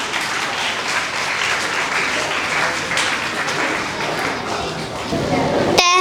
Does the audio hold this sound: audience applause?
yes